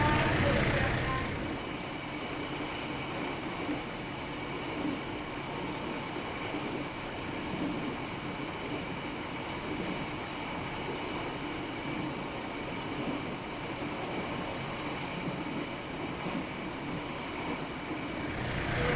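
A Sancaka Utara passenger train in the Trainz simulator runs along rails near Babat toward Lamongan station, with a steady, close rolling rumble and wheel clatter that continues without a break for the whole stretch.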